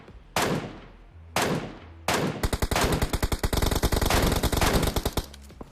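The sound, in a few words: gunfire in a battle royale video game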